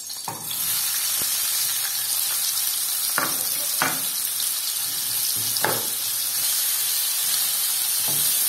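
Chopped onions sizzle steadily in hot vegetable oil in a pan, a constant loud bright hiss with occasional scraping stirs and clinks of a utensil over the frying.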